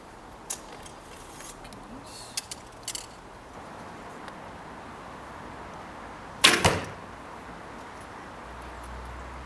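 A single sharp slap of a bowstring from a Border Tempest barebow snapping against an arm guard, brief and close, preceded by a few faint clicks in an otherwise quiet outdoor setting.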